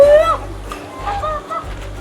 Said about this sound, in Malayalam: അപ്പോൾ ഇവിടെ വാത്തയുണ്ട്, കേട്ടോ.